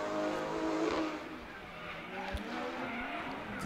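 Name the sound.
drift car speeding at Pukekohe Park Raceway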